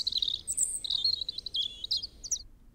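A voice imitates robin birdsong with a series of high, quick chirps and warbling whistles, close and fairly soft over a quiet background.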